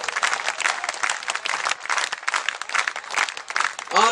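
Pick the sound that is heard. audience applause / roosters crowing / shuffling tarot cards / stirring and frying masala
audience applause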